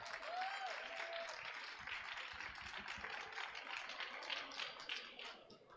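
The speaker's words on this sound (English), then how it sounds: "give them another applause because they're online with us" Applause from an audience at an awards ceremony celebrating young green changemakers, a dense and steady patter of clapping lasting throughout, moderately loud with no voices.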